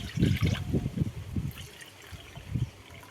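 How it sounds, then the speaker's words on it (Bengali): Three bowls of water poured into a kadai while making a sweet from packet powdered milk, a close gurgling splash in short bursts that fades toward the end. "এইভাবে আমি কড়ার মধ্যে 3 বাটি জল দিয়ে দেব।"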